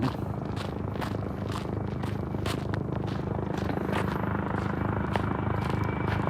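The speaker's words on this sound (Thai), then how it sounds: "แล้วตรงนี้มีอีกสองลำโอ้ยเครื่องบินเต็มฟ้าเลย" Helicopters fly over the hills near the Hollywood sign, a steady distant rotor drone with a rhythmic thudding beat that holds through the whole stretch with no talking.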